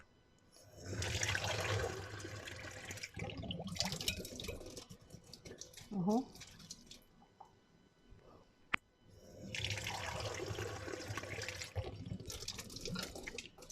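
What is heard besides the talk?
pouring two cups of water into pot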